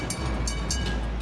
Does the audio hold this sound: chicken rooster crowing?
no